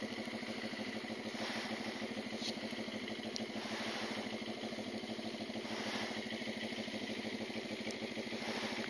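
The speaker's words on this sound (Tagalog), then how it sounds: "heat up lang natin konti yung ating motor." A motorcycle engine idles steadily while warming up, a continuous even mid-pitched running drone with no revving, alone without talk.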